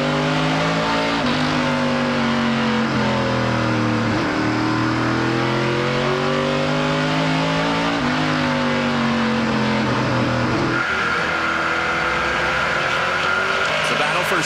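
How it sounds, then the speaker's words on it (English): Stock race car engines at a 2018 NASCAR Pinty's Series road-course race, loud and close, revving with rising and falling pitch sweeps, a sharp RPM jump through a corner, and the next car's engine taking over near the end; a commentator talks over it. "Did you hear the RPM jump when Cameron got in the corner of Powell?"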